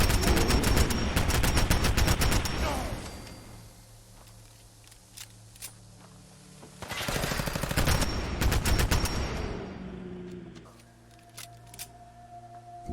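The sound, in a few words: 10mm automatic pistol gunfire, video game Fallout 4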